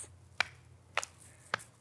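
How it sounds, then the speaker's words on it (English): Three separate light taps of hands on knees, spaced about half a second apart as a simple warm-up rhythm in a children's music class. They are fairly close but soft, with a quiet background and no talking. "Can you tap your knees like this?"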